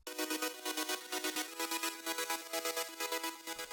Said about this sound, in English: And to round things off, I used this gated synth.